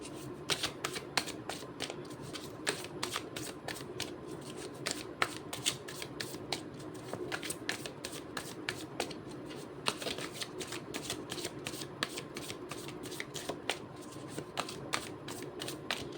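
Tarot cards are shuffled continuously for a reading. Rapid crisp riffling clicks and flutters repeat steadily at moderate volume close by, with no talking.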